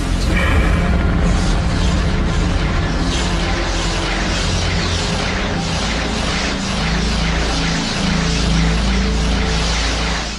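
A huge Big Bang explosion effect booms loud and dense for ten seconds, with layered crashing, rumbling and grinding over a deep continuous roar.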